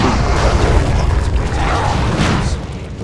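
Cannon fire in a World of Warcraft battle scene, a dense, loud booming roar with rolling rumbles and crashing impacts sustained throughout.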